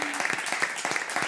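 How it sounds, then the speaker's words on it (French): A studio audience applauds a performance on a French television comedy show, a short burst of brisk, fairly close clapping with distinct individual claps. "On peut applaudir vraiment la performance exceptionnelle de Lucas et d'Isabelle."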